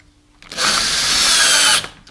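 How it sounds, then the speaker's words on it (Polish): A cordless power screwdriver whirs steadily for about a second, driving a screw into a door handle being mounted, loud and close with a sharp start and stop. "I teraz na dole wkręcam wkręta, tak żeby po prostu zablokować."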